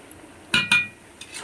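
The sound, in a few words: stirring and frying banana stem with spices in a pan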